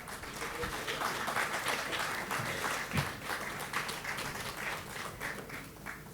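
Sustained applause from an audience at a business conclave in Maharashtra, a steady dense clatter of many hands clapping at moderate distance for several seconds, with faint voices mixed underneath.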